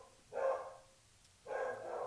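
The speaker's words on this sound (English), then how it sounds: "I'm sorry about my dog" A dog in a quiet room gives two muffled, moderately loud barks about a second apart, set apart from the low background.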